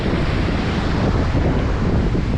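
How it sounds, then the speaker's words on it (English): Steady, loud wind buffeting the microphone outdoors, a constant low rumble and roar filling the whole clip with no voices. "It's pretty windy out here today."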